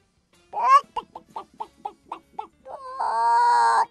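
Chicken clucking effect in a Greek radio advertisement: a short squawk, then a rapid run of about eight evenly spaced clucks, ending in a drawn-out crowing call, close and clear.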